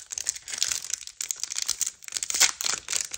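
A Pokémon card booster pack is torn open in one go, with sharp crinkling and tearing foil wrapper bursts in quick irregular rustles, close up and fairly quiet.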